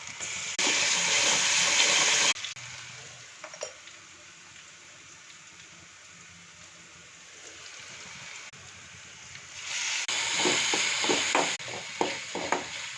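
Ginger garlic paste frying in a pan with spices and salt for chicken gravy, giving bursts of bright sizzling and stirring at the start and end, with a quieter low simmer between.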